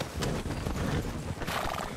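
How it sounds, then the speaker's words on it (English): Horses in the Red Dead video game neigh and whinny over busy clip-clopping hooves, a dense, loud, continuous mix with no talk over it. "What the fuck is going on with all these damn horses?"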